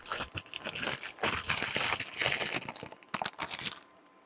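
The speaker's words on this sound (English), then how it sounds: "Sometimes you just need a bag to make you realize how weak you are." A plastic bag being crinkled and crumpled while someone struggles to open it during shrimp po' boy prep, loud close rustling in irregular bursts that fades near the end.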